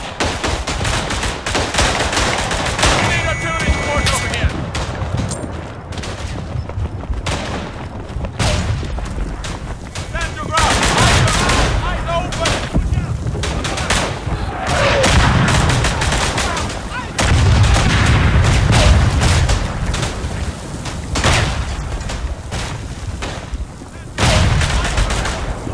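Machine gun fire in the World War I shooter Verdun on the Argonne map, with dense repeated bursts and booms running throughout, loud and close, with other gunfire and explosions layered around it.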